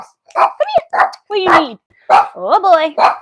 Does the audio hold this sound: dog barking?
yes